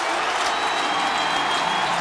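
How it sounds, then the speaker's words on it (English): A stadium crowd at a Clemson versus South Carolina college football game roars in a sustained, dense wall of cheering and applause, loud and steady throughout without letting up. "And listen to the crowd."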